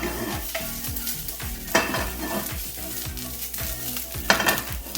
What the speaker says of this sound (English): You hear that sear? That's what you want.